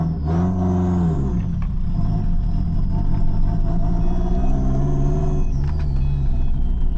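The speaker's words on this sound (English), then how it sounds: "let's go ahead and drive the Forester out the way, and turbo noises sound freaking insane" A Subaru Forester with an open downpipe pulls away under load, its loud rumbling engine rising and falling while the turbo whistles and whooshes high above, alone without talk.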